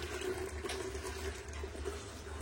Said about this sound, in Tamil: இப்போ இதெல்லாம் ஒரு டப்பா தண்ணி ஊத்திக்கலாம்